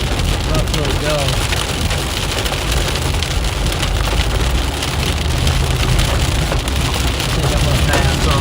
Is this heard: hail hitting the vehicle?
yes